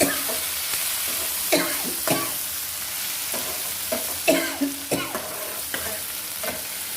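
Onions and curry leaves sautéing in a pan for a chicken gravy give a steady, close sizzle, broken by several louder stirring scrapes spread across the clip, with no talking.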